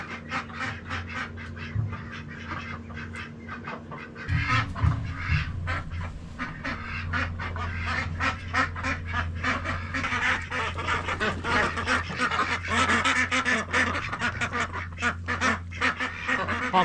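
Ducks quack in a busy, continuous chorus on a farm along a river during wet, rain-soaked weather. The calls are close and overlapping, with honking notes and a low steady drone beneath them throughout.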